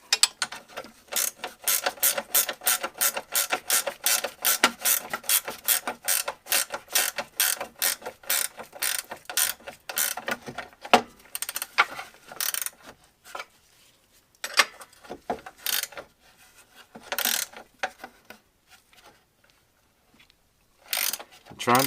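Rapid ratchet clicks from a wrench tightening a bolt on a Polaris Sportsman front A-arm during bushing replacement, a fast steady run of sharp ticks for about ten seconds, then scattered bursts of clicking with pauses, close and fairly loud.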